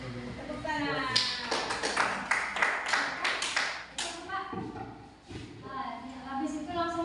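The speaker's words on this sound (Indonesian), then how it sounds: "Tepuk tangan." A classroom group bursts into applause, a dense patter of clapping hands lasting a few seconds, with people talking before and after.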